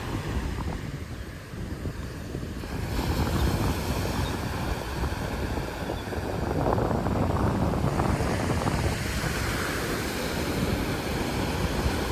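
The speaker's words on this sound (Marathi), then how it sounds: "कसला आवाज आहे समुद्राचा बघा पाण्याचा." Sea waves wash onto a beach amid steady wind, a continuous broad roar with swelling surges and gusty buffeting on the microphone, no voices present.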